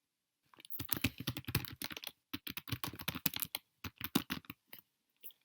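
Rapid keyboard typing, a dense run of crisp clicks in bursts with short pauses, close and fairly quiet.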